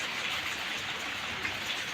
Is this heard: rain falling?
yes